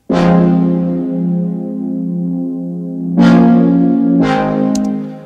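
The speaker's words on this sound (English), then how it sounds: "So that's the wet setting with the full distortion on." Heavily distorted guitar chords through a valve distortion plugin at full distortion, fully wet, ring out loud and fuzzy, with one sustained chord followed by two more sharp strums that buzz and decay.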